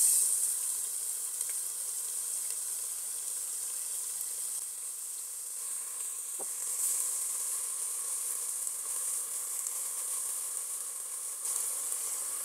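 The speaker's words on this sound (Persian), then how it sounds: "پیازایی که نگینی کردیم و بهش اضافه میکنیم." Steady, bright sizzling of diced onions frying in hot oil, continuous and close, with no talking.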